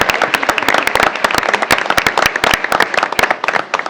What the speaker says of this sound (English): so a big round of applause for gymnastics